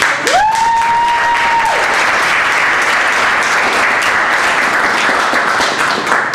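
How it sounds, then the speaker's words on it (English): A theater audience on opening night gives a warm round of applause for the founding artistic director, loud, full clapping sustained throughout with a brief tonal whistle-like sweep near the start. "let's give her a round of applause"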